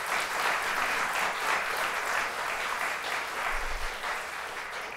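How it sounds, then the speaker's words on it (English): An audience at a 2012 graduation ceremony applauds in a steady, dense round of clapping from many hands, even in level across the whole stretch with no speech over it. "So if you would take a moment to give a round of applause for them as well"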